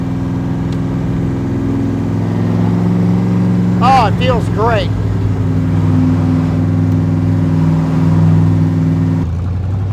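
A 1965-style Factory Five MkIII Shelby Cobra's engine drones steadily from inside the cabin, low and continuous, with someone speaking briefly midway.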